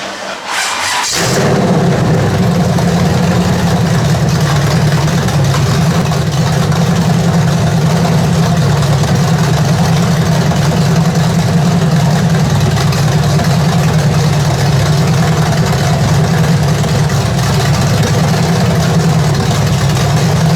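Rebuilt 388 small block Chevy engine starts up and idles, a loud steady low rumble with slight surging as it runs short of fuel, continuing for the whole stretch.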